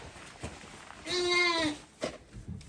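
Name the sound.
pet lamb bleating weakly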